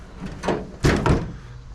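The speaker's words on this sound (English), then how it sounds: "My back door is broken" A broken back door is handled, giving a short scrape followed by two heavy thuds close together, loud and near, with no one speaking.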